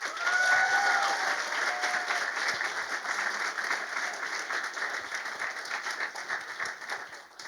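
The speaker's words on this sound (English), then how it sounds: "one more round of applause for our speakers" A conference audience at an interfaith event applauds its speakers with a steady, sustained round of clapping that tapers slowly toward the end, while a faint tone hovers briefly in the background.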